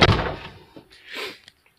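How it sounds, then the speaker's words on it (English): A single heavy campervan door, on a Citroen Relay conversion, thuds shut nearby in wind, followed by a brief rattle and a softer knock as it settles. "Let me shut this door because it's a bit windy actually."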